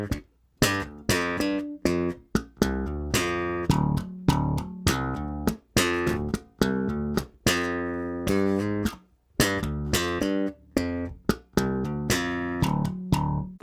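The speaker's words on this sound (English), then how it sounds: "Let me play it slow for you a couple more times so you can hear the rhythm." Bass guitar playing a groove and a fill at a slow tempo, with distinct plucked notes in a steady rhythm and short gaps between phrases, heard alone and up close.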